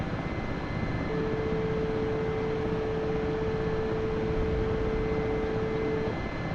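A helicopter's rotor and engine drone steadily in the DCS flight simulator game, a constant dense roar with a thin sustained tone running through the middle.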